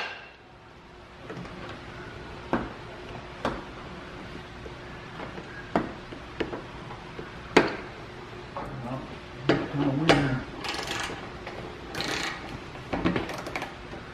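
A socket wrench tightens 8mm bolts on a Jeep air dam in a series of sharp close metallic clicks and ratchet bursts. Scattered clanks of tool and bolts mix in, growing busier toward the end.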